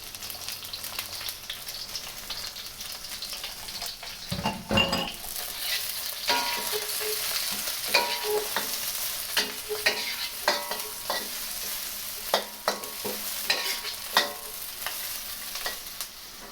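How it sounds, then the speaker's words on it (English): Carrots hit a hot wok for beef lo mein: a steady, close sizzle of stir-frying runs throughout, punctuated by sharp clacks and scrapes of a utensil tossing the vegetables. "throw in your carrots."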